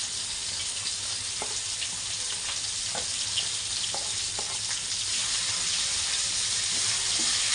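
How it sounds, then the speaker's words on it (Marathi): Ground masala paste, added after cumin seeds, sizzles and fries steadily in a pan for paneer, a continuous hiss with a few faint clicks and no talking. "ह्या मसाल्याला आपल्याला फ्राय होऊन द्यायचं आहे थोडंसं"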